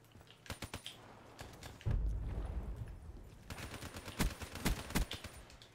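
Rapid gunfire rattles in Black Ops 3, with sharp bursts at the start, a heavy rumbling stretch, then more clustered automatic shots close and loud.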